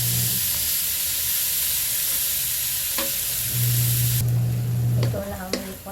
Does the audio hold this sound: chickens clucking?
no